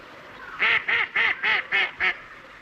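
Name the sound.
duck quacking in a park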